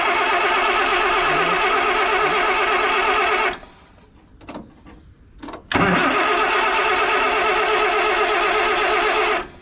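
A Land Rover engine cranks on choke with a loud, steady whirring turnover that halts for about two seconds, with faint clicks in the gap, then resumes cranking without catching.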